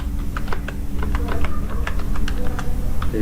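Fast, steady clicking of a computer keyboard as text is typed into an MS Office text box, close and continuous over a low electrical hum.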